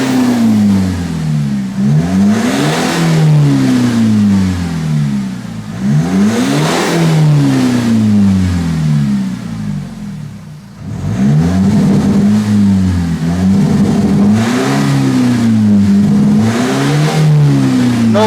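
A remapped Nissan X-Trail engine with EGR and DPF delete, misfiring and losing power at 3000 RPM, revs up and down repeatedly, pitch rising and falling in loud, close sweeps, with a brief dip before revving resumes.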